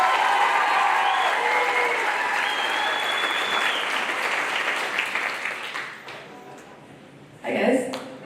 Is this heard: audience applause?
yes